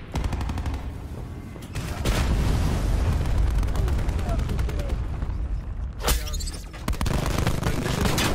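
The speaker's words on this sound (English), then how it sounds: "Launch Hellstorm on my mark." Hellstorm missile strike in Call of Duty: Black Ops 4 erupts as a dense, sustained rumble of explosions and rapid gunfire, with heavy booming blasts near the middle and again toward the end amid ongoing battle noise.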